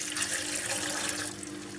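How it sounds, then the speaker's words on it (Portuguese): Tap water runs into a pan to cover quince peels for jelly, a steady splashing gush with a faint hum underneath, easing slightly near the end. "Esta eu vou cobrir com água"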